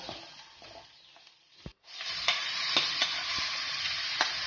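Turmeric, chilli powder and vegetables for a mixed-veg paratha filling fry in a pan with a soft sizzle. A spoon scrapes and taps as it stirs, the sizzle dips briefly, then returns louder and more steady.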